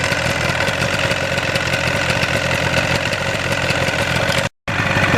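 A 1977 Yamaha RD400 motorcycle engine idles close by at about 1400 rpm with a steady, rapid chugging pulse, cutting out for a split second before resuming.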